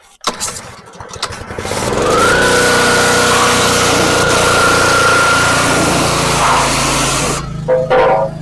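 A turbocharged Mazda FE3 engine swapped into a Mazda B2200 pickup cranks and catches, then runs loudly and steadily for several seconds before cutting out abruptly. A few rattling noises follow.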